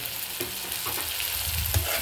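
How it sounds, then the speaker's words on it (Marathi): Chopped coriander hits hot oil tempering for a Kokani-style sukat dish, producing a dense, close crackling sizzle with faint stirring scrapes throughout. "आपण आता अर्धी कोथिंबीर इथं चिरलेली ती फोडणीमध्ये घालूयात"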